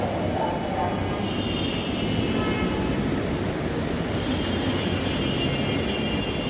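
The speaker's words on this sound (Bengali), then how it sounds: "মেট্রো রেলটি চলে আসছে" A metro train pulls into Kazipara station in Dhaka, a loud steady rumble and whine of the approaching train filling the platform with a rising tone partway through, and faint voices beneath.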